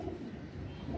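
Pigeons cooing at a pigeon loft during a flying-pigeon contest, a low, steady murmur of soft coos that runs unbroken through the whole short moment, fairly close and unaccompanied by speech.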